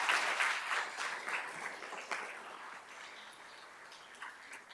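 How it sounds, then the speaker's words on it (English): An audience at a university scholars ceremony applauds the committee with a scattered round of clapping, fairly faint and distant, gradually thinning over a few seconds. "So round of applause for the committee."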